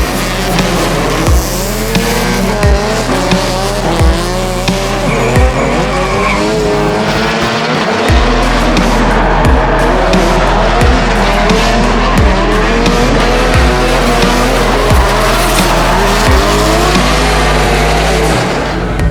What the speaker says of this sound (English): So he throws it up into the Repco wall ride for the first time, and he gapped Dean Young off the start